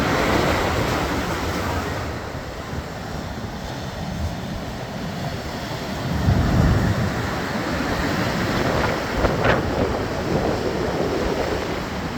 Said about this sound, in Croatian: danas veliki talas i veliko jugo